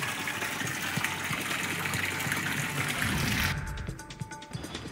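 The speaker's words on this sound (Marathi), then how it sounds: "सध्या परिसरातील नागरिक मोटराच्या सहाय्याने पाणी बाहेर काढण्याचा प्रयत्न करत आहेत।" Water gushing and splashing as a motor pump drains floodwater from houses after heavy rain in Wardha, a loud, continuous rushing that shifts and thins toward the end, with no talk.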